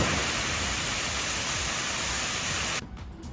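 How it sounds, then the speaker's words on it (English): A waterfall roars as a dense, steady rush of falling water close by, loud and continuous before it cuts off abruptly near the end. "How you guys like the waterfall?"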